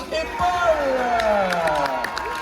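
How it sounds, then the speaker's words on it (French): A crowd at a national junior tennis cup claps and cheers for the players, with excited whoops and voices rising over scattered applause in a short burst. "Donnez un applaudissement s'il vous plaît pour Rose et"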